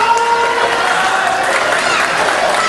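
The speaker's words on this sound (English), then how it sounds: "Listen to this crowd." A wrestling crowd cheers and claps at an independent pro wrestling show, a loud, continuous roar of an arena audience with whistles and shouts rising out of the din.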